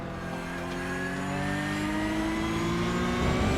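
A race car engine revs hard and steadily in iRacing at the Zandvoort circuit, a continuous loud, rising whine with layered harmonics as the car pulls out of a hairpin, heard alone without talk.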